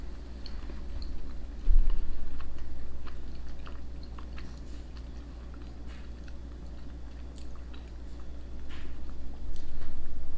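Someone chews a bite of mild Wensleydale cheese with cranberries, eaten plain without a biscuit. Soft, moist mastication sounds continue close to the mic over a low steady background hum.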